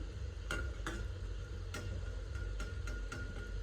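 Modak dumplings fry in hot oil with a steady sizzle, broken by repeated light clinks and scrapes of a utensil stirring the pan, and no voices.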